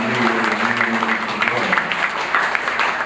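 Applause from a church congregation during a Child Jesus feast celebration, honoring the decorators, a steady broadband patter of hands with some voices murmuring underneath.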